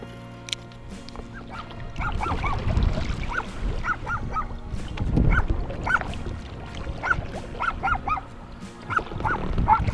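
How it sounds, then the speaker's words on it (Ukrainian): Several dogs bark in bursts outdoors by the Seym River, the barks rising and falling in loudness over a steady rumbling background with some quacking-like calls. "І тут на мене собаки напали."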